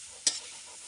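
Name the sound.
stirring grated coconut and cassava in a pan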